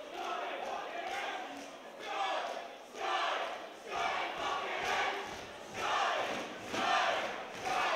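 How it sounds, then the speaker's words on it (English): Boxing arena crowd roaring and cheering in surging waves during a fight night, a dense continuous din of many voices rising and falling with brief lulls, loud and sustained. "you can hear the crowd behind them here"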